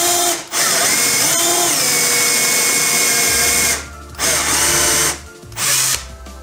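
A power drill boring a test hole with a drill bit, likely into wood for spice-rack furniture construction: loud steady whining motor runs in several bursts separated by brief pauses, close up, no talking.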